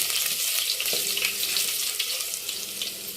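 Dense, hissing crackle of garlic and tempering spices frying in hot oil for horse gram soup, steady and close, with a faint metallic tap near the start.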